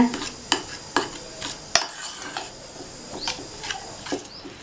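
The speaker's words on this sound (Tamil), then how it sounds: "துருவின வாழைக்காவை இந்த பாத்திரத்தில் சேர்த்துட்டு நல்லா ஒரு தடவை மசிச்சு விட்டுறலாம்" Grated raw plantain mashed in a vessel, giving repeated sharp scraping and tapping strokes in an uneven rhythm, close and moderately loud, with no talking.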